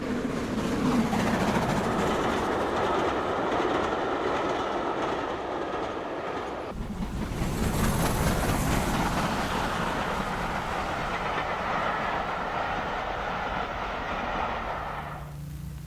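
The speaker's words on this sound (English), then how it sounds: "This is GWR Hall class, number 4945 Milligan Hall." A Great Western Railway Hall class steam locomotive, No. 4945, filmed in 1947, hauls its train past in a loud, steady rumble with rhythmic clickety-clack of wheels over rail joints throughout.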